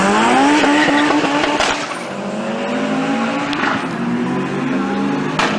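A VW Golf 1460 Turbo prepared by Marcel Nussbaumer and a Subaru STI race car accelerate hard at a motorsport event, loud engines revving and rising in pitch with a tire squeal and a brief gear-change dip midway.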